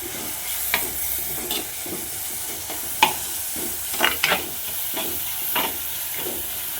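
Crushed shallots sauté in a hot pan with a steady sizzle, while a spoon scrapes and clinks against the pan every second or so, close up and without speech.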